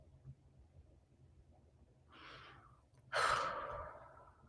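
Two deep breaths during a calm tapping exercise, first a soft inhale and then a louder, longer, airy exhale sigh, close and alone in a quiet room.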